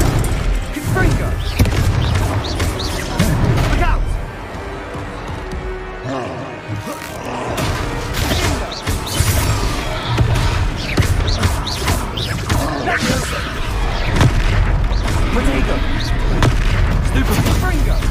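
Repeated booming blasts from the Confringo spell in the video game Hogwarts Legacy, loud crashes over continuous battle noise and music, with voices speaking throughout.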